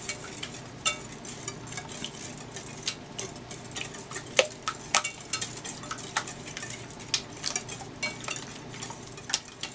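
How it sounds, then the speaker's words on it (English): Eggs with sugar and a teaspoon of vanilla extract whisked in a bowl for rum bread pudding: quick, light, irregular ticking clicks of a whisk against the bowl, close but soft, continuing steadily with no talk. "I'm going to whisk it a little bit before I add my milk."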